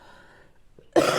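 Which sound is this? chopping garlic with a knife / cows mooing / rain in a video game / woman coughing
woman coughing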